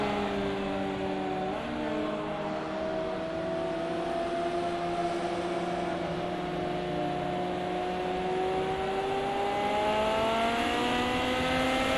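Ferrari race cars in the Project Cars 2 video game, engines whining and rising and falling in pitch as they accelerate and shift through gears, a steady moderate roar with overlapping tones from several cars.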